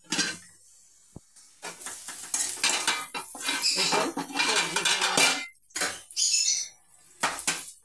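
Utensils clatter and scrape in a covered pan as spices with pepper and cumin powder fry for a village-style puffed-rice snack, in irregular close bursts of stirring separated by brief pauses.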